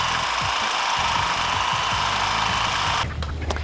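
A power tool cuts steadily through the rear frame rail of a Jeep JK Wrangler, its loud continuous whine running close and unbroken before abruptly dropping off near the end.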